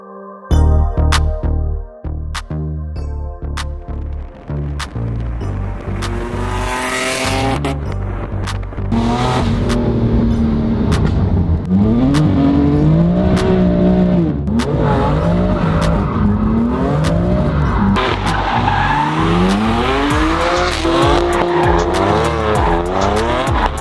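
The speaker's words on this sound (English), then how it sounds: "go ahead and fire it up and show you guys the valve differences." A BMW M4 with an ARMYTRIX exhaust and stage 2 tune fires up, then revs repeatedly, loud and close, with sharp blips rising into sustained high revs and rasping exhaust tone throughout, no talk.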